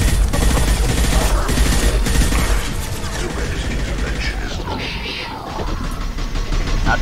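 Rattling automatic gunfire in the video game Mass Effect 2, a dense mechanical clatter of rapid shots that continues loudly, then thins, with voices talking over the combat.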